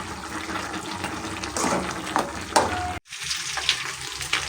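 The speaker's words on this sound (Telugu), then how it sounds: "బాగా వేగిపోయింది కూర" Mutton curry fries in a pan with a steady sizzle and crackle, broken by a few scraping stirs and a brief cut in the sound.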